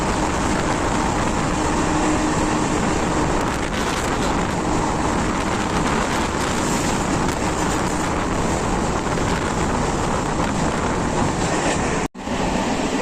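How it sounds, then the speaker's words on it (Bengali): A fast Sealdah local train overtakes the Hazarduari Express, heard from on board as a loud, continuous rumble and rattle of wheels and carriages, with a brief sharp dropout near the end. "এই যে লোকাল ট্রেন এক্সপ্রেস ট্রেনকে স্কিপ করছে"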